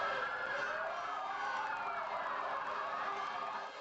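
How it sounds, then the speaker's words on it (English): Many fire truck sirens wail together during a firefighters' strike protest, their overlapping rising and falling tones forming a loud, continuous chorus that fills the city streets. "80 trucks, their sirens blaring in anger."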